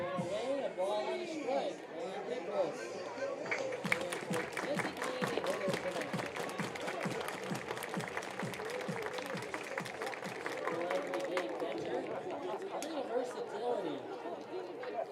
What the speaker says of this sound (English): not great with the coordination on the everybody clap your hands from the crowd here